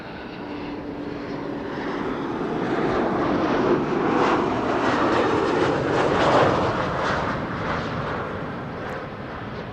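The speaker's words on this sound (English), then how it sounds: "an Embraer 190 arriving from Kristiansand is about to land here on the Kaagbaan" Embraer 190 airliner from Kristiansand on final approach to land on the Kaagbaan runway at Amsterdam Schiphol, a broad jet engine roar swelling as it passes nearby and then slowly fading, with no talk over it.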